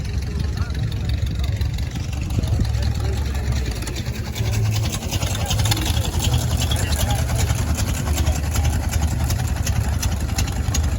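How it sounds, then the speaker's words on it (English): An antique model 60 farm tractor on a probable 6-volt system cranks and runs at an outdoor spring farm equipment show, a loud, continuous engine drone that stays steady throughout. "Little 60 over there getting started up. I assume it's still a 6-volt system on that. The way it's sounding cranking up."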